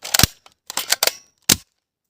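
A cheap toy dart launcher bought from Pepco fires in a series of sharp snapping clicks, a few quick bursts followed by a single louder snap, close and without talk.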